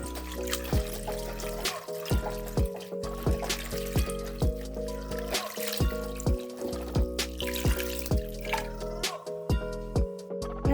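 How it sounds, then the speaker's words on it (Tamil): Water trickles and drips as flattened rice is rinsed in a strainer, an uneven light splashing with soft knocks recurring every second or so, while music plays underneath. "இது ஃபில்டரில் போட்டு நல்லா வாஷ் பண்ணிடலாம்."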